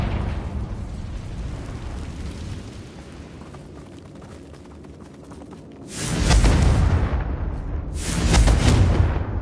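The Confringo fire spell in Hogwarts Legacy sets off two loud, close explosive bursts, each a roaring blast that decays over a second or two, after a quieter stretch of low rumble.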